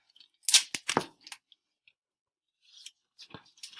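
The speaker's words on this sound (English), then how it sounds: "Then you're going to take a piece of tape." A strip of duct tape is pulled and torn from the roll to wrap a weaving shuttle. A couple of sharp, close ripping bursts come near the start, followed by softer crinkling handling noises.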